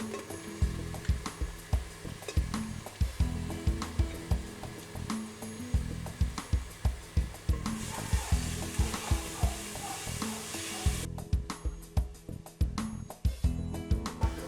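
Chopped shallot, onion, carrot and celery sizzle steadily in a pan as a soffritto, a loud continuous frying hiss broken by repeated stirring knocks and scrapes, close up with no talking.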